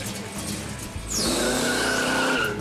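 A car doing a burnout at a busy local car show event, engine revving as the tires break loose into a loud, sustained squeal with a rising pitch, close and dominating the scene.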